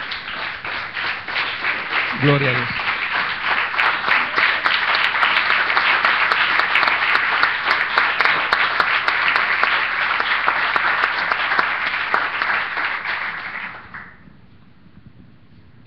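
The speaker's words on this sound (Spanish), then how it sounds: "Le damos palmas al Señor" A church congregation claps hands together in praise during a Spanish-language sermon, a dense, steady roar of applause sustained for about fourteen seconds before stopping abruptly, with a voice calling out briefly near the start.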